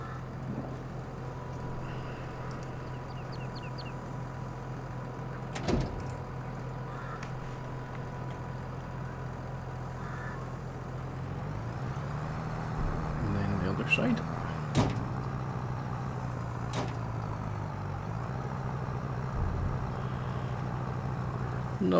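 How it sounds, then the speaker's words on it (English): A Landini tractor engine running on a farm, a steady low drone that continues throughout at moderate level, with occasional clunks and a shift in pitch partway through. "Not the most powerful of tractors, this Landini, but definitely seems to be doing the job."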